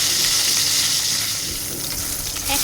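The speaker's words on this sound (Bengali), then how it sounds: "চুলাতে কড়াই দিয়ে সেখানে দিয়ে দিলাম হচ্ছে গিয়ে ভাজার জন্য তেল। তেল দিয়ে আমি মাছটাকে দিয়ে দিব।" A fish head fries in hot oil in a wok, giving a loud, continuous close sizzle with bursts of spattering and crackling throughout.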